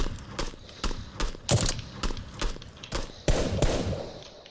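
Gunfire from the battle royale game PUBG on the Miramar desert map: a rapid string of sharp shots, some closer and louder, spaced irregularly over a low background rumble, with no voices.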